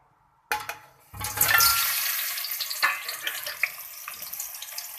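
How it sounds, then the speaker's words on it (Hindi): Potatoes dropped into hot oil burst into a loud, close, crackling sizzle that settles into steady bubbling frying with small pops. "ऑयल के अंदर डाल दिए हमने आलू। इसको तकरीबन चंद सेकंड के लिए ऑयल में फ्राई करना है।"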